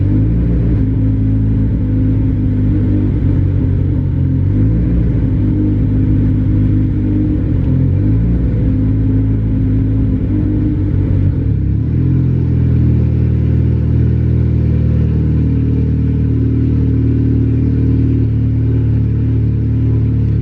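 A Honda single-cam D16 engine running a P28 ECU idles with a steady low, throbbing rumble near and loud, its tone wavering unevenly in the first half before settling into a smoother, lower hum, with no talking.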